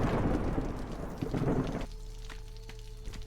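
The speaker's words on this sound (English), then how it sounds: "Storm is coming." In the city-building game Against the Storm, a storm arrives with a heavy rumble of thunder and rain that fades after about two seconds into a quieter ambient game backdrop with sustained tones.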